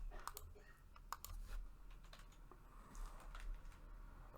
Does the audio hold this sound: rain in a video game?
no